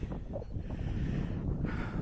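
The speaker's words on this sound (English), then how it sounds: "a little windy today" Wind buffets the microphone outdoors at a model airplane flying field, a steady close rushing and rumbling noise with no talk.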